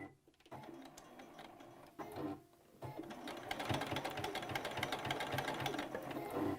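A sewing machine stitches a pleat on a fabric face mask, whirring in a fast, even mechanical rattle up close, briefly pausing and then running continuously.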